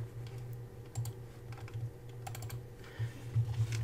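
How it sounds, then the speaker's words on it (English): Rapid clicking of a computer keyboard as a formula is typed into an Excel spreadsheet, the keystrokes coming in irregular bursts over a steady low hum, with no talking. "So we'll type in equals"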